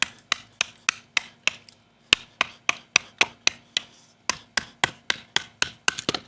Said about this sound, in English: Easily chopping this wood.